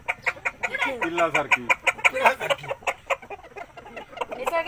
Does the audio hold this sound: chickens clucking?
yes